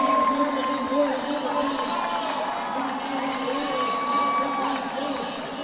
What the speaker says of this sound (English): The crowd's loving it.